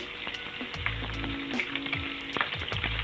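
Squid sizzles hard in a hot pan while being fried for adobong pusit, a loud continuous crackle close by with a few clanks and low thumps of a utensil against the pan.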